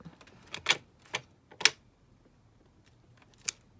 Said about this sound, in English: Let me just quickly do the postmark so it looks a bit more authentic, like an envelope